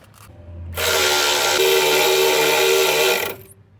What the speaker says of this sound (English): With the gun, is you tighten it in a matter of seconds.